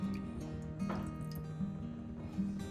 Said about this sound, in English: Take a pan, add 230 ml of water and boil it.